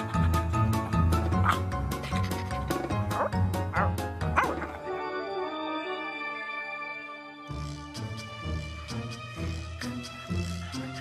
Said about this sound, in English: Three little dogs in a flurry of feathers bring three little goslings back to their mother